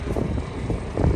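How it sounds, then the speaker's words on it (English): Wind roars steadily during a snowstorm on Highway 401, a dense blustery rush buffeting the microphone for about a second, with no talking. "So cold, the wind's blowing, all this snow, it's brutal."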